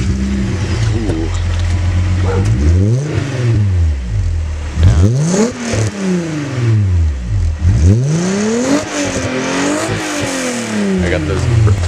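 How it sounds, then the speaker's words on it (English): A car engine revs repeatedly through a loud exhaust, pitch rising and falling in several sweeping pulls, close and dominant, with voices talking underneath. "Yeah, get this exhaust."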